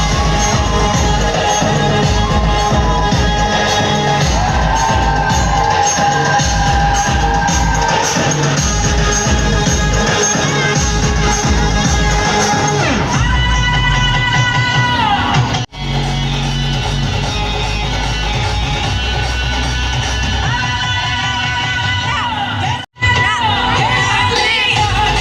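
A large, loud crowd cheers, whoops and shouts continuously at a Ganesh immersion procession through a village, with children's voices prominent and brief dips in the din.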